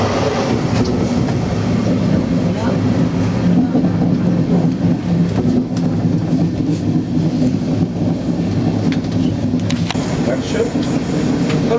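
Interior of a moving German train: a continuous rumbling roll with faint clicks and occasional squeaks running throughout, with people talking quietly in the background.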